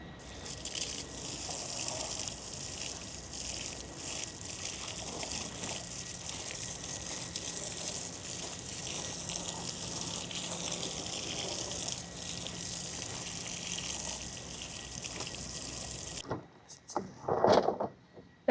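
Water sprays steadily onto a Milwaukee PACKOUT drawer toolbox, a continuous hissing rush that lasts a long stretch before cutting off and giving way to a few faint knocks and handling sounds.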